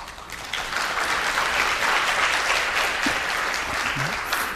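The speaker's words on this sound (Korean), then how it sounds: "격려의 박수 감사합니다." Audience applause fills a forum hall, a dense, steady clapping that stays loud and even throughout, with no speech over it.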